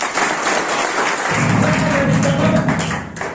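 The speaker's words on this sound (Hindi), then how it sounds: "इसके लिए एक बार जोरदार तालियां" A crowd claps loudly and continuously, the applause swelling after the first second and holding steady before tapering at the end.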